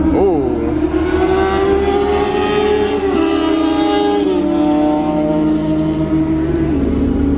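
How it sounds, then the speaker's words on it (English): Fast motorcycles pass on a road near a group of sports cars, their engines rising and falling in a loud, sustained rev with a shifting pitch, heard close by while people talk. "here's some fast bikes"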